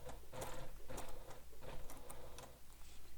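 A sewing machine stitches a handheld bag in a steady run of rapid mechanical ticking bursts, fairly quiet and close, with no voices.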